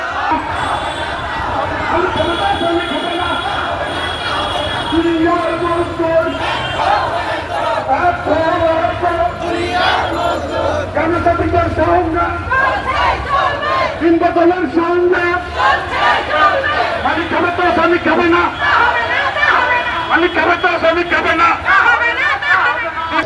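Garment workers march in protest through Dhaka, their crowd chanting in steady rhythmic bursts throughout. The chanting stays loud and constant, with a reporter talking over it.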